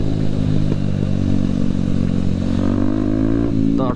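A Kawasaki Ninja 250 or BMW G310R motorcycle engine revs loudly and steadily at close range, its pitch climbing and dipping through sustained throttle with no voices.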